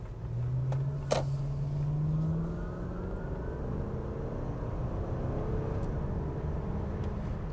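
A Lexus LS 430 Ultra Luxury sedan accelerates, its engine a smooth, subdued hum that rises in pitch early on, then settles into a steady low road drone with a brief click near the start.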